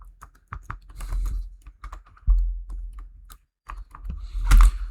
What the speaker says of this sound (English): you can use also Windows on your keyboard and R to open the run